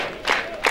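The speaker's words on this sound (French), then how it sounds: "Applaudissons." At an Easter service in Dolisie, a church congregation breaks into applause, two quick bursts of clapping and cheering over a murmuring crowd, loud and close.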